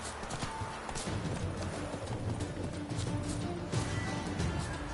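Horse hooves from The Witcher 3 clip-clop steadily in a continuous trotting rhythm, close and clear, with no speech over them.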